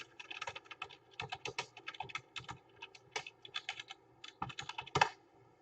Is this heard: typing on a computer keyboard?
yes